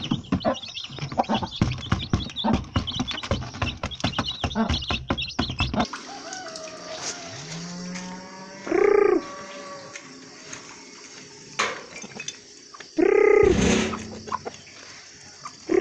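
Busy pecking and scratching sounds as a hen eats scattered feed, then the hen's clucks and a few short squawks with faint peeping of newly hatched chicks in between, close by.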